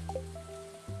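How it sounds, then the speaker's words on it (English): Rain falling in the Stardew Valley farming game, a soft steady patter under gentle tonal game music during one brief second. "Ooh, and it's rain."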